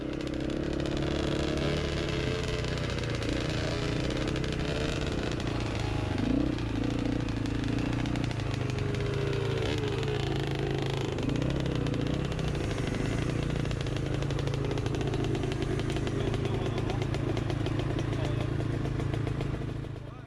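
Off-road motorcycles ridden along a bumpy trail, the engine droning steadily and loud throughout with rattles and knocks as the bikes jolt over rough ground.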